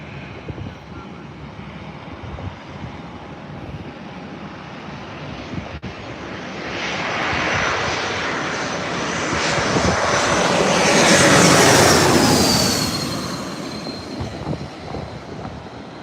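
An airplane taxis in at San Diego Airport with a loud, broad jet engine whine and roar that builds toward the middle and slowly eases off, heard from nearby outdoors.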